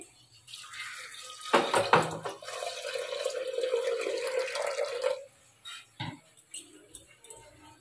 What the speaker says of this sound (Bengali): এবার দিয়ে দেবো প্রেসার কুকারে, একটু জল দিয়ে দেবো।